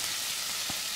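Mustard seeds and curry leaves fry in hot oil, a steady close crackling sizzle that fills the whole moment, with a faint stir or pop midway.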